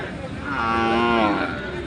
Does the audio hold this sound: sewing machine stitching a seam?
no